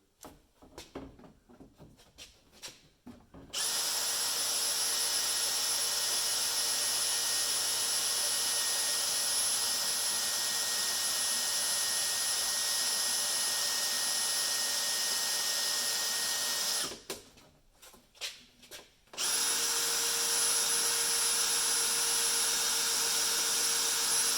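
A drill boring into steel on a motorhome runs in a long, loud, high-pitched whine, stops briefly amid some clatter, then starts up again at a steady pitch.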